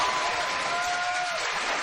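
A television studio audience claps for Michael Dukakis in a steady burst of applause that carries through the whole moment, dense and fairly loud, with only faint crowd murmur beneath it.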